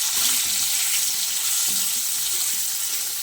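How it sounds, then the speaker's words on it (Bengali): Potatoes fry in hot oil with cumin seeds and ground spices, a loud, steady, broadband sizzle with faint low scraping from stirring underneath, and no voices. "এখানে জিরে ফোড়ন দিয়ে আলুটা দিয়ে দিচ্ছি চলো একটু ভালো করে ভেজে নিই"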